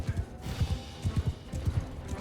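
A horse trots in Mount & Blade II: Bannerlord, its hooves thudding in close, rhythmic clusters of beats that repeat steadily, with no voice over them.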